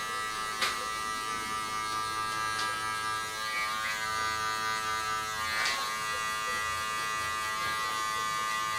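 Electric hair clippers buzz steadily and close-up while cutting a low taper, with a constant humming tone and a couple of brief sharp clicks along the way.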